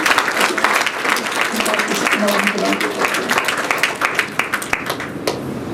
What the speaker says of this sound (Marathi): याबद्दल तुम्ही टाळ्या वाजवून त्यांचे अभिनंदन करा